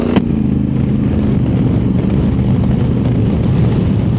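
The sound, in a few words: Honda Africa Twin DCT motorcycle riding on highway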